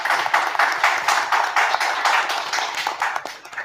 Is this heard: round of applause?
yes